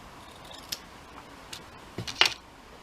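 Scissors make a handful of short, crisp snips, quiet and close, spaced irregularly over a few seconds against a soft background hiss.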